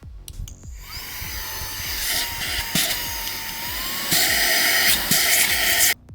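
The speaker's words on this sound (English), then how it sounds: "Swapped over to this little adapter tool because it makes way more sense to vacuum the carpet with this." Cheap cordless car vacuum cleaner fitted with a small adapter tool, run over car carpet: a high, whiny motor hum with shifting airflow hiss, preceded by a few clicks and bumps, stopping abruptly before the end.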